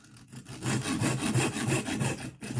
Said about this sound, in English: I'm going to cut the dowel just slightly longer than this